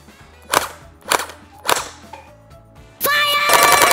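A gel blaster toy gun fires three sharp, close pops spaced about half a second apart, then a dense burst of rapid clattering fire follows and continues.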